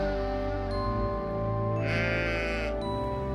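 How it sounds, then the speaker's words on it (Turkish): A ram bleats in a single long, wavering call, loud and close, with a sharper strained rise near its end. "Sonra İbrahim boynuzlarından çalılara takılmış bir koç gördü ve oğlu yerine Tanrı'ya onu sundu"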